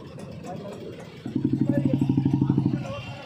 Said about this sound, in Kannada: ನೋಡ ಬ್ರೋ ಫುಲ್ ಟ್ರಾಫಿಕ್ ಜಾಮು